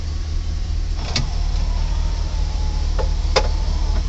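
Power windows on a 1981 Corvette whir up and down with an electric motor, two short mechanical movements with clicks at each stop, heard over a steady low engine idle.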